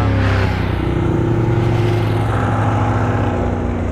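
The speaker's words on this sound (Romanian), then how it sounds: "Aha, mișto motocicletele." Motorcycles passing on a road in Germany, a loud steady engine drone with sustained tonal hum, close and continuous with no talk.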